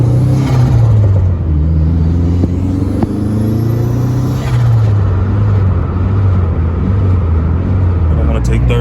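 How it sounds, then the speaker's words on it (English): An SRT4 at full throttle under acceleration, heard from inside the car: a loud, droning engine rumble with rising pitch that briefly falters and breaks up in spots, with a sputtering misfire under load. "So this is gonna be about full throttle. And you see how it starts to sputter."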